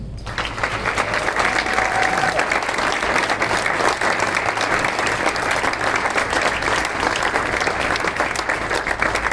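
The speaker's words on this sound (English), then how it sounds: "Go ahead and give them a round of applause." A tented audience at a nursing pinning ceremony gives the graduates a round of applause, a loud, continuous wash of clapping that holds steady for the whole stretch.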